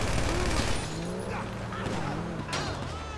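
Gunfire in GTA 5 crackles as a quick burst of shots and thuds while someone talks over it.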